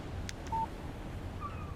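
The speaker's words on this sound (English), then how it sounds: "What did I tell you? Text message from Barry." A short electronic text message alert from a phone in the video game Alan Wake Remastered: a single brief tone at moderate level, followed by a few faint chirps over steady low background ambience.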